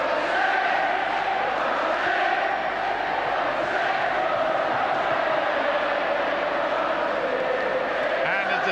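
A stadium crowd of St Helens rugby league supporters sings and roars steadily at the 1978 Challenge Cup Final against Leeds, a dense, continuous wash of many voices without a break.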